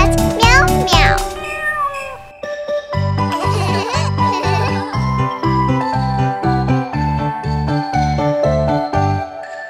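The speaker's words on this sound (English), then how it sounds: "Little cat, meow, meow." Cat meows sound over a bouncy, rhythmic children's tune with jingling accents, and the meows repeat in time with the music.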